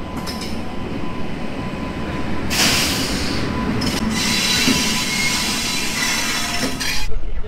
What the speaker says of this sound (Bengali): নির্ধারিত সময়ের থেকে 13 মিনিট লেটে আমাদের ট্রেনটি ছাড়লো জলপাইগুড়ি স্টেশন থেকে